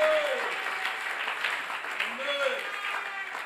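A church congregation applauds and cheers for Jesus, a dense, steady wash of clapping and crowd noise with voices and music mixed underneath.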